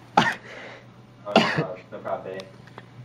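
Two sharp coughs from a person, close and loud, roughly a second apart, followed by some throat clearing and faint speech.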